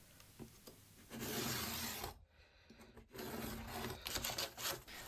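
Paper from a dismantled paper bag is trimmed down, making close, dry rustling and rasping cuts in two sustained stretches separated by a short pause.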